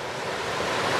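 Steady broadband rush of water flowing through a low creek in a rainforest, continuous and fairly close, with no voices or other sounds.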